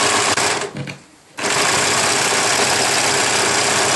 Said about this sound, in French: On va surfiler les côtés.